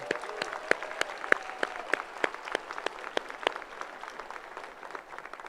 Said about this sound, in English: Let's give all the moms in the room a really big round of applause.